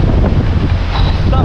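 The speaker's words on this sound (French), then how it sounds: "il y a du vent fort, de la vague" Strong wind buffets and waves crash around a racing sailboat at sea, a loud, continuous roar of gusts and rushing water with microphone wind noise.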